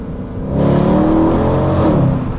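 A Mercedes C63 AMG V8 engine revs hard and holds a loud, rising growl for over a second before easing off, close and powerful.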